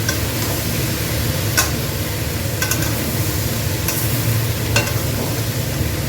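Beetroot and vegetable curry mix for vegetable chop frying in a pan, an even, dense sizzle with occasional crisp spoon taps and scrapes from stirring, close and without speech.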